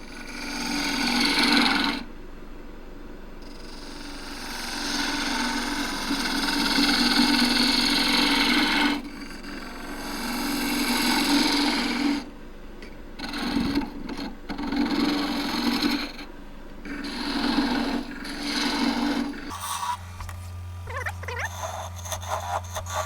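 A woodturning tool hollows out an enclosed wooden vessel spinning on a lathe, a steady close rasping, scraping hiss that comes in long passes broken by short pauses, then a lower motor hum near the end.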